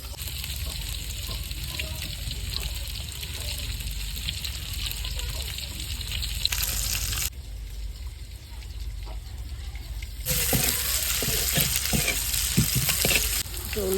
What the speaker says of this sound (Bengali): কড়াইটা গরম হয়ে গেছে, আমি তেল দিয়ে দিই, পেঁয়াজ কুচি দিয়ে দিলাম